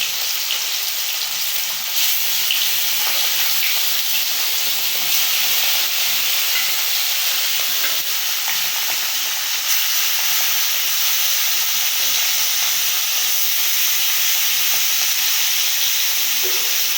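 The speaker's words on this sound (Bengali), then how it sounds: "চুলার আগুন একদম নীল, খুব পাওয়ার।" A powerful blue flame on a village cooking stove roars steadily at full strength. It makes a broad, constant hiss that stays loud and unchanging throughout, with no voices.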